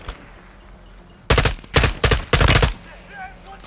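Automatic gunfire in the Call of Duty: Modern Warfare II campaign: three close, loud rapid-fire bursts in quick succession after a quiet moment, followed by faint game ambience.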